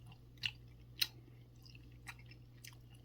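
Close, quiet chewing of jjapaghetti black-bean noodles during a mukbang meal, with a few sharp moist clicks over a low steady hum.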